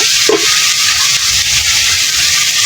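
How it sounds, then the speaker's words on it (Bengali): Ground spice paste of lentil, cumin and onion with turmeric and salt frying in a pan after a splash of water, a loud dense hissing sizzle that runs steadily throughout, close by, with no speech. "জল দিয়ে দিলাম তো মশলাটা কষানোর জন্য"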